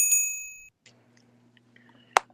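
A bright bell chime rings at the start and rings out, followed by faint small taps and a low hum, then one sharp metallic ding near the end.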